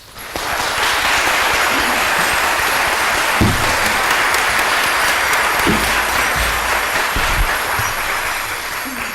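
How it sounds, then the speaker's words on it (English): A crowd at an MLK Day children's march for peace bursts into loud, sustained applause that fills the whole stretch with dense, even clapping. "Let's give them another round of applause."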